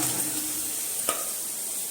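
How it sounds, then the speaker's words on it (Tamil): Garlic frying in sesame oil gives a continuous dense sizzle, close and steady, with one brief brighter crackle partway through. "இப்போ பூண்டை எண்ணெயில் வணக்கிக்கலாம்."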